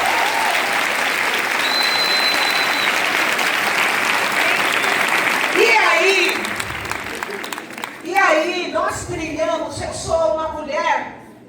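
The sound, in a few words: applause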